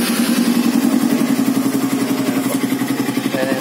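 A 2018 Suzuki Raider 150 motorcycle fitted with a big elbow exhaust and a gutted canister idles close by, a steady loud throb with rapid even pulses throughout.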